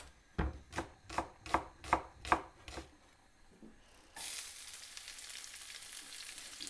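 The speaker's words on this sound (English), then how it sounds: "And now I'm going to prepare a red onion." A knife chops a red onion on a cutting board in about seven evenly spaced, close, crisp thuds, followed by a loud sizzle as food hits hot oil with cumin seeds in the pan.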